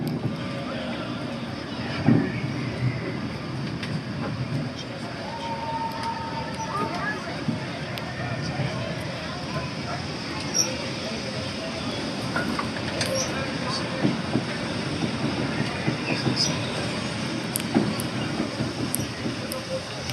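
Steady rumbling ride aboard a Disney theme-park monorail, continuous low mechanical and wind noise with faint rattles and clicks throughout, no voices standing out.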